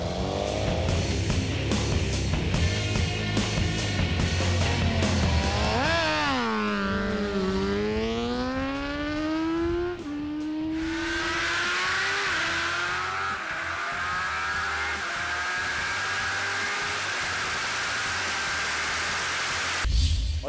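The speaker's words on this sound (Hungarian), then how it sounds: "vajon milyen gyorsulási adatai vannak a Suzuki GSX-R 1000 K9 tartós tesztmotorunknak" A Suzuki GSX-R 1000 K9 sport motorcycle accelerates hard from a standstill to 200 km/h, its engine note climbing through rising gear pulls with brief dips at each shift, then a sustained high-speed roar with wind rush.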